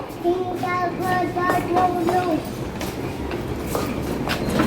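Train interior with a steady rumble and rhythmic clatter, and a voice chattering over the noise.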